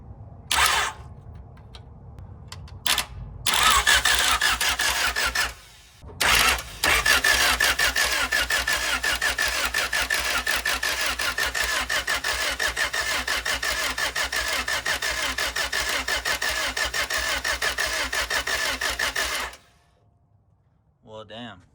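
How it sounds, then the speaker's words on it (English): Starter cranking the D16Z6 engine of a swapped Honda Civic race car without it catching: two short bursts, then one long, steady, loud crank before it stops abruptly, with people talking around it. "do this shit to the starter and at least keep it cranked"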